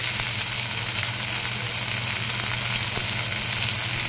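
Egg tarka fries in a pan with a loud, even, continuous sizzle that holds steady throughout, with no distinct stirring strokes standing out.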